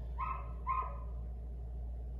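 Two short barks from a dog somewhat in the distance, a brief pause between them, over a constant low background hum.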